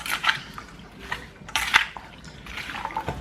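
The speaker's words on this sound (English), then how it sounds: "Then I'm gonna mix this all together" Seasoned chicken liver is mixed with ketchup in a bowl, giving wet squelching and clicking pulses in uneven bursts, close and moderately loud, with no voices.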